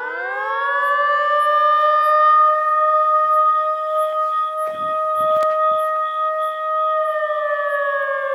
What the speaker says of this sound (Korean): 앰뷸런스 사이렌 전쟁 났나?